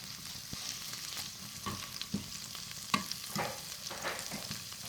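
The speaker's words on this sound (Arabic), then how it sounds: "نحط الزيت ديالي كتسخن وانا كنقلب في هاد الشريحه مزيان" A slice stirred and pressed while frying in heating oil, a quiet continuous sizzle with occasional soft scrapes and taps from the utensil, close and without talk.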